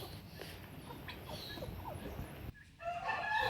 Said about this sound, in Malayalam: ഇടയിൽ കോഴിയൊക്കെ കരയുന്ന കാരണം